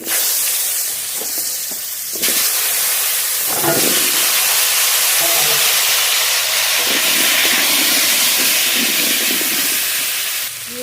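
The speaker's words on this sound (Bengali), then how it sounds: "মাছ ভাজা তেলের মধ্যে আলু ভেজে নেব কেটে ধুয়ে রাখা আলু" Cut, washed potatoes fry in oil left over from frying a 2 kg silver carp, giving a loud, continuous close-up sizzle that surges as more pieces go into the pan, with no talking.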